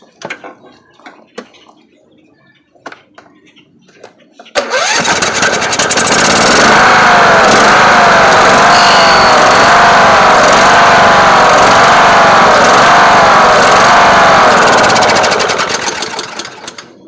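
A Kohler Courage engine on a Husqvarna riding mower with a 46-inch deck, after a carburetor clean and valve adjustment, cranks and catches after a few quiet seconds, then runs loud and steady before easing slightly at the end.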